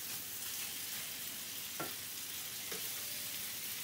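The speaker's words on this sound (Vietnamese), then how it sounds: "Bây giờ mình bỏ tôm vô mình chiên nha." Black tiger shrimp fry in butter in a pan, producing a steady, even sizzle with a couple of brief crackles, close and unbroken by talk.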